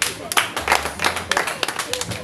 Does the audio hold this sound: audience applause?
yes